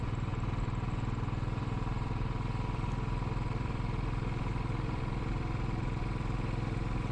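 Motorcycle riding along a country lane in the Cotswolds, its engine a steady, continuous drone close to the microphone throughout, with no talk.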